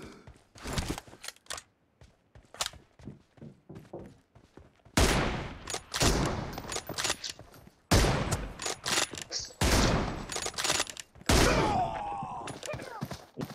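Gunfire in a team deathmatch shooter: rapid bursts of automatic shots, first as scattered single cracks, then as dense sustained volleys, loud and close, with brief voices between.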